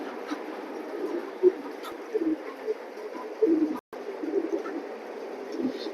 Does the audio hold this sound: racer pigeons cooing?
yes